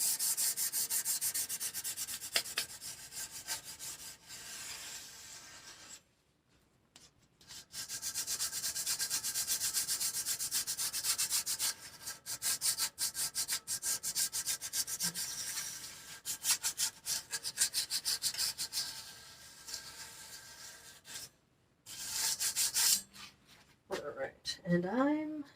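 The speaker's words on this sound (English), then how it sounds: "Do maybe some wet sanding." Wet sandpaper rubs rhythmically against a bicycle disc brake rotor being cleaned with alcohol, in close, scratchy strokes broken by short pauses.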